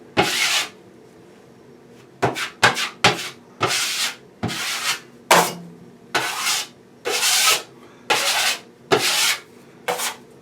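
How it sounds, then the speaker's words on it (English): Repeated scratchy sanding strokes, about a dozen, rasp against a drywall patch in an uneven rhythm with short pauses between them. "This is our final sanding and touch-up coat right here."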